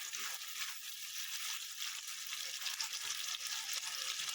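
Tomato paste is stirred into a hot cooking pan, giving a faint, steady sizzle with soft, continuous scraping throughout.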